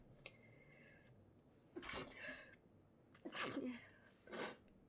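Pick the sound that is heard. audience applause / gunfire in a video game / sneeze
sneeze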